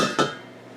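A metal spoon knocks once against a pot of apple scraps cooked down for hours, a single close clink with a brief ringing decay into quiet.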